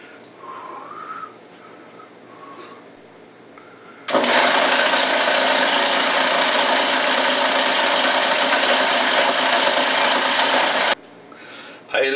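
A sausage-making machine churns meat and ice for Thuringer bratwurst, starting abruptly as a loud, steady grinding whir that runs for several seconds and then cuts off, with quieter room noise before and after.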